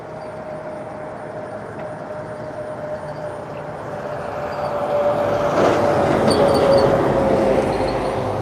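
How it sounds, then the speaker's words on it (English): A nitrogen tanker truck rolls past at a SpaceX launch site, a broad rumbling roar with a steady whining tone that swells as it draws nearer and grows loudest near the end. "That is a nitrogen tanker there coming through."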